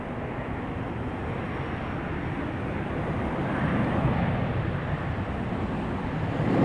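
A jet airliner landing at Raleigh-Durham International Airport roars as a broad, steady rumble that swells gradually louder as it approaches, with no speech over it.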